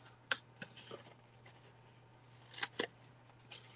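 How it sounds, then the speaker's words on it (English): Scissors snip paper up to score lines to form small flaps on a handmade Christmas gift card holder box, a few sharp close cuts spaced irregularly with quiet rustling between them. "we're going to cut just up to the next score line to create our little flaps to close our little box"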